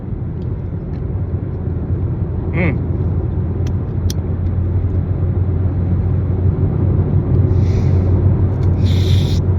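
A car cruising along the road, steady low engine rumble and tire noise filling the cabin throughout, with a few faint clicks and rattles near the end.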